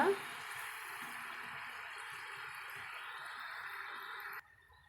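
Pearl millet flour murukku fries in hot oil with a soft, steady bubbling hiss that holds evenly and then cuts off abruptly just before the end.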